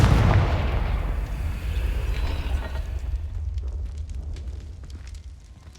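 A Confringo fire spell explodes in the Hogwarts Legacy video game, a loud close boom that decays into a long, rumbling roar and crackle lasting several seconds.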